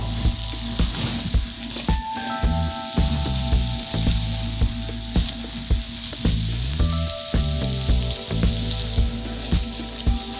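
Smashed baby potatoes fry and brown in a pan, giving a loud, dense, continuous sizzle and crackle throughout, with tonal background music running underneath.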